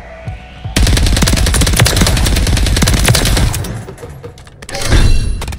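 Loud, close automatic gunfire in a Call of Duty Black Ops 6 match with an STG 44 loadout, a sustained rapid burst that fades, then another heavy blast of shots.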